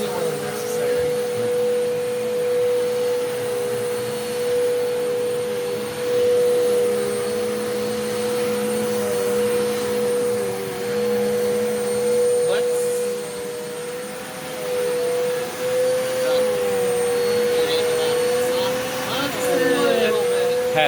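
Bissell, Hoover, Eureka and Rainbow-type vacuum cleaner running on carpet, a steady loud motor whine with a strong tonal hum that holds throughout, shifting slightly near the end as the nozzle lifts the carpet.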